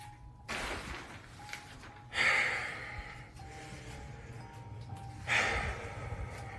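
Heavy breathing from a man in a played TikTok clip: loud gasping inhales and huffing exhales in uneven bursts over a low background hum, close to the microphone.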